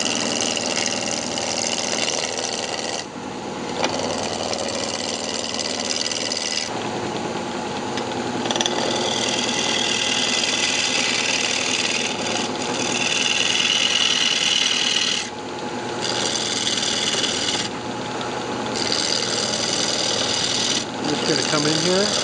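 Wood lathe turning a bandsaw box blank, with a tool scraping and cutting against the spinning wood in sustained rasping passes broken by short pauses and under occasional talk.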